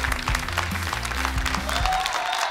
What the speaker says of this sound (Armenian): Եկեք բարձր ծափարենք Յուրիկ Ջաջային,